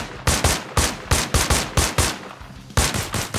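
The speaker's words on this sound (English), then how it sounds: "a couple of shots" Rapid bursts of gunfire in the video game Arma Reforger, roughly a dozen loud, close shots in uneven clusters with short gaps, no talk over them.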